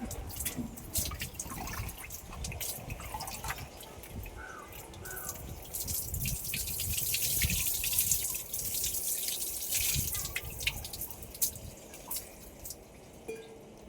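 Hair-care herbs are rinsed under running water, with a steady close gush of water and scattered drips and splashes throughout, fairly quiet overall.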